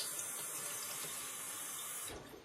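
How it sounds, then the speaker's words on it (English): Water running from a tap to fill a homemade Berkey-style gravity water filter during priming, a steady close hiss and rush that cuts off near the end. "So what I'm doing now is replacing the air inside the filter with water"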